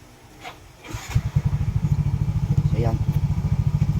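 A Yamaha Mio i 125 scooter engine cranks and catches, then settles into a steady, loud idle with rapid regular pulses. Someone speaks briefly before it starts.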